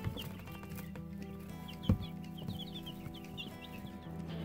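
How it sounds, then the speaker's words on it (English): Newly hatched chick or quail giving rapid, high-pitched peeping calls, a string of small chirps over a steady indoor hum, with one louder thump partway through. "Can't tell if that's a chick or a quail making that noise."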